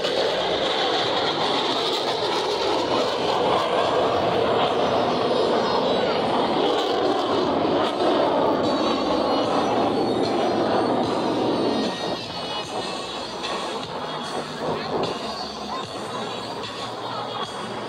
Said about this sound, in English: Observe as both pilots sustain 6 times the force of gravity to cross their aircraft over short